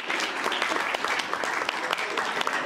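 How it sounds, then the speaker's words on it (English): A short burst of steady applause from a conference audience, dense clapping filling the whole moment without pause. "Then give me an applause"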